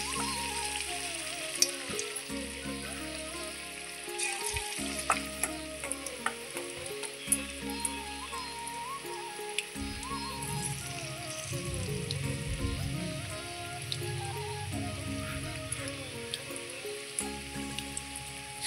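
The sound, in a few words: frying night-jasmine leaf fritters in hot oil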